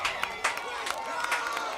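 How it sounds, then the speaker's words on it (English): Football crowd at an outdoor game getting fired up on fourth down, a steady broad roar of voices with scattered louder cheers and shouts rising throughout. "now the crowd really getting involved"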